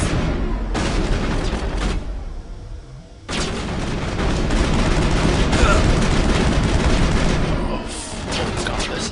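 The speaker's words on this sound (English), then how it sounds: "this is a firefight and a half" Sustained automatic gunfire and explosions in a Mass Effect firefight, loud and dense almost throughout, with a brief lull near the middle before the shooting resumes at full intensity.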